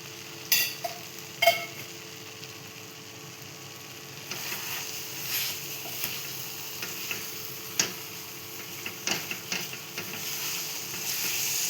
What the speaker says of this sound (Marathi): ह्यात टाकते थोडंसं तूप.